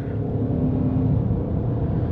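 A 2024 Ford Maverick XLT Hybrid pulling away under light throttle gives a close, steady low rumble from inside the cabin, with a faint rising engine tone and no voices.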